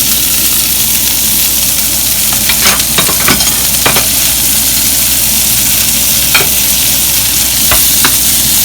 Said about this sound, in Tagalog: Tapos stir fry lang.